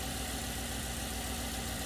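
An engine idles steadily just after start-up, a continuous, even, moderately loud running hum with faint knocking pulses and no voices.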